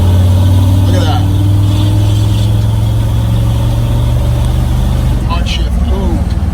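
A car engine fitted with Holley Sniper EFI runs with a steady low drone that swells as the throttle rolls in, loud and close, with a voice talking over it.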